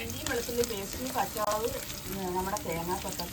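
Onion-based curry paste fries in a pan with a steady sizzle and crackle, close and moderately loud, while a voice talks over it.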